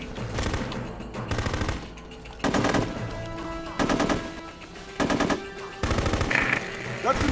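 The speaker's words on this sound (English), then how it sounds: "shooting at us!" Bursts of automatic gunfire crackle in repeated volleys during combat in the video game Full Spectrum Warrior, loud and close, with pauses between the salvos.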